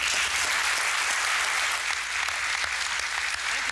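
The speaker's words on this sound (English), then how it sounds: "please give a round of applause to Mr." Steady, full audience applause at a DHL seminar welcoming a speaker, an even, sustained roar of many hands clapping throughout.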